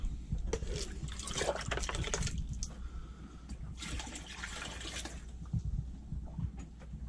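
Water flowing into a boat, a steady trickling and gushing wash that swells in two louder surges and fades between them, heard close with no speech.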